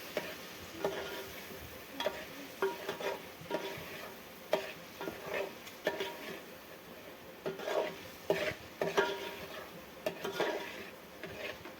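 A vegetable curry cooks in a pan with water added, giving a quiet bubbling sizzle under frequent clinks and scrapes of a spoon stirring against the pan, set outdoors; no one speaks.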